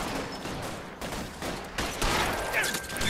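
Rapid gunfire rattles in the crime game L.A. Noire, a series of sharp shots and bursts crackling over a busy background, with a thin whistling tone near the end.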